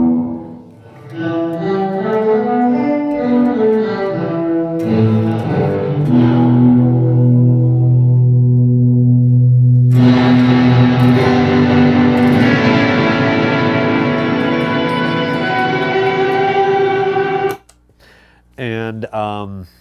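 Sustained guitar notes wash into a long, echoing reverb tail, swelling and shimmering before cutting off abruptly near the end.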